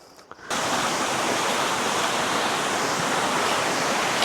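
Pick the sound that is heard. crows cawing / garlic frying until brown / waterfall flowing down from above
waterfall flowing down from above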